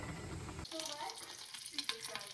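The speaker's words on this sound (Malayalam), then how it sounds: "അതിന് ഞാൻ പാനിൽ കുറച്ച് ബട്ടർ ഒഴിച്ച് കൊടുത്തിട്ടുണ്ട്." Butter melts in a frying pan with a soft, faint sizzle and light crackles, starting after a brief low rumble and continuing quietly with small scattered pops.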